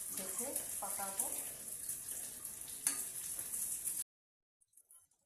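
Water pours into a pot of sautéed potatoes for a banana-stem potato curry, a steady bright hiss and splash lasting about four seconds before cutting to near silence.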